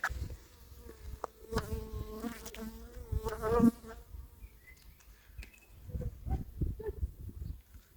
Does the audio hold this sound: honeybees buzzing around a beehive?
yes